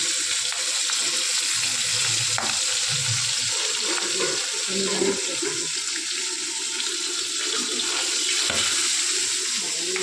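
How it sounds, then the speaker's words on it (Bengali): A hilsa fish head and green chillies fry in a pan with a continuous sizzling, spattering crackle, close and steady, with occasional soft knocks. "মাছটা ভালো, মাথাটা ভাজা ভাজা হয়ে যাবে, কাঁচা লঙ্কাটা ভালো ভাজা হয়ে যাবে"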